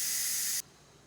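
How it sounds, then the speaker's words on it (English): A loud, steady hiss of steam escapes from a Ninja pressure cooker's release valve during a beef stroganoff recipe, then cuts off abruptly partway through, leaving only faint room tone. "We need to let all the steam off."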